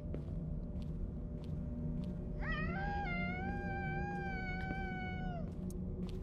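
A cat in the Mimic Search video game lets out one long, drawn-out wail that rises sharply, then holds a wavering pitch for about three seconds before trailing off. Faint ticks and soft background noise continue underneath.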